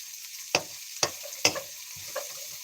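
Pasta cooking on a stove, with a few sharp clinks of a utensil against the pan over a faint sizzle in a quiet kitchen.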